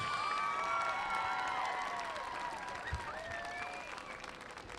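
A crowd at a high school football homecoming applauds the homecoming court and their escorts, with cheers and whistles rising over the clapping, heard from a distance and easing off gradually.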